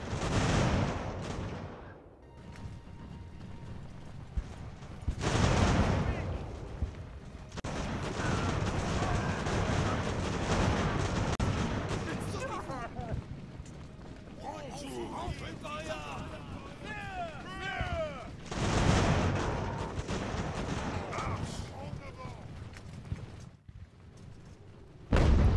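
Cannon fire in the naval strategy game Ultimate Admiral: Age of Sail, with British ships firing broadsides. Heavy booming volleys and crackling shots come in repeated bursts over a continuous battle din, mixed with game sound effects.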